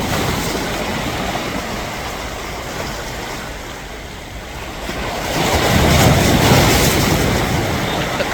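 Sea waves washing onto the beach at Alexandria in the early morning, a steady roar of surf under wind that swells louder toward the end.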